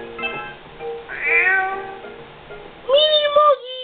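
A Mini Moo Kitty creature in Dragon Quest Swords gives a few clear, close meows, a short series of bright cries with a louder, rising one near the end.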